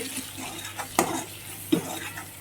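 A spoon scrapes and clinks in a pan a few times as garam masala and turmeric are stirred for dal, with a soft sizzle underneath.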